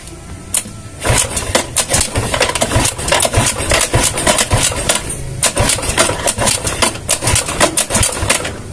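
A Yamaha Mio scooter engine is kick-started and catches, running in a loud, uneven putter with rapid clattering pulses, close by.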